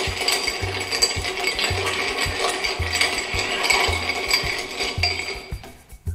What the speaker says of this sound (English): And now I will stir it.